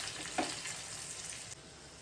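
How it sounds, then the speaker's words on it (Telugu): Quiet, steady sizzle of turmeric and chili powder frying in hot oil as a tempering for gongura dal, with a single soft stir or clink early on. "యాడ్ చేసుకొని వీటిని మొత్తాన్ని బాగా ఫ్రై చేసుకోవాలండి మనము"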